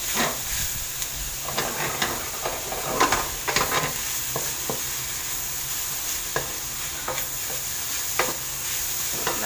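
Spaghetti sauce with a sautéed mix and black pepper sizzles in a pan while a utensil stirs it, giving a steady frying hiss broken by irregular scraping strokes and clinks, close up and with no speech.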